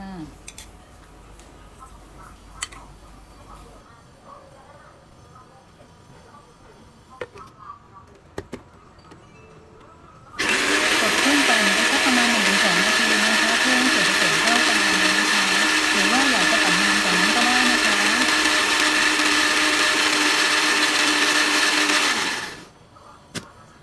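An electric blender whirs loudly and steadily for about twelve seconds while it blends salad dressing ingredients, starting abruptly and then stopping, after a quieter stretch of kitchen handling sounds.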